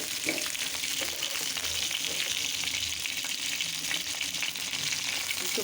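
Pieces of chicken roast sizzling steadily in hot oil in a pan, with a continuous close crackle and hiss and occasional stirring noises, no voices.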